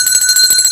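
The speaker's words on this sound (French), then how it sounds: "Battez de cloche." A bell rings continuously with a bright, steady metallic tone, loud and close, with a slight pulsing shimmer throughout and no voices.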